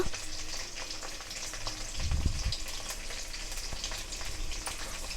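Whole dried chilies, coriander seeds and cumin seeds sizzle steadily in hot oil in a pan for a tomato chutney, a dense crackling hiss with a brief louder burst midway as the spices drop in; no talking.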